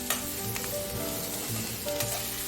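Chopped garlic sizzles and is stirred in a pan over a high flame, a steady frying hiss with a few scraping strokes repeating through the clip.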